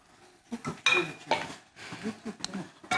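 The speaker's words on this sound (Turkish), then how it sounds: "Te- tencere değişikliği yapıyorum Nermin." Cooking pots being swapped in a home kitchen, with metal pans clanking, scraping and clinking in irregular bursts close by, mixed with softer utensil knocks and occasional faint voices.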